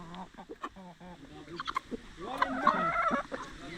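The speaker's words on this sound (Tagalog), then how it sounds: "Mga tandang." Roosters cluck and murmur close by in a series of short, uneven calls, with a few faint voices in the background.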